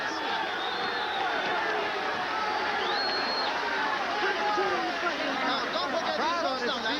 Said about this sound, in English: Crowd on his feet, and you have an idea they're cheering just the fact that that was a great round